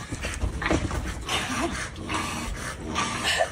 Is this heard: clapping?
no